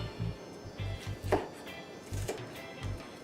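A knife chops peppers on a cutting board: a series of distinct low thuds in short bursts, some strokes grouped in quick doubles, set against quiet kitchen room tone.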